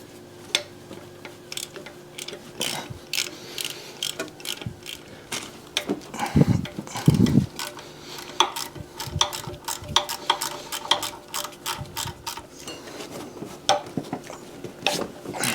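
A hand ratchet backs out the timing chain cover bolts on a Honda engine, rapid metallic clicking in uneven bursts close to the mic, with a few duller knocks of tool against metal partway through.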